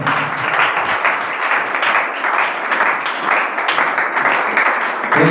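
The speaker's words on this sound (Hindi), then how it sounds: "कुछ जोरदार तालियों में" Sustained loud applause from a church congregation at a sermon, dense steady clapping filling the whole stretch without a break.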